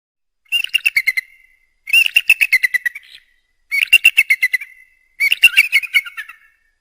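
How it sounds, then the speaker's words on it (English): An eagle's high, piping call, repeated in four loud bursts of rapid chattering notes separated by short silences, close and clear with no other sounds. "eagle"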